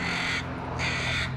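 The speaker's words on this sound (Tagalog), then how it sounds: "Maraming uwak dito sa Chilliwack" Two loud, harsh caws from a nearby crow in Chilliwack, each about half a second long with a short gap between them.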